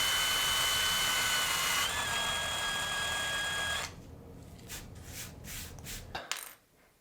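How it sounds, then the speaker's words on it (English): A small drill whines steadily, close by, as it bores out a tiny rivet on a Matchbox Saab Sonett III diecast car, then the tool stops and light metallic rattles and clicks follow. "I got one little rivet to drill out here"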